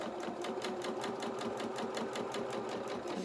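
A sewing machine runs steadily while stitching a pair of doll bloomers, its fast even needle rhythm continuous and close throughout with no pauses.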